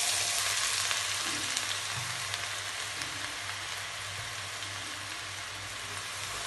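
Finely chopped onions, three medium ones, fry in a pan with a dense, even sizzle like steady rain that carries on throughout, close and continuous, with only faint stirring and no voices.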